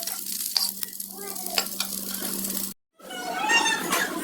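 Chapa (fermented fish) frying with garlic in a pan, a steady close sizzle with scraping stirs. The sizzle cuts out briefly, then returns with louder, brighter crackling.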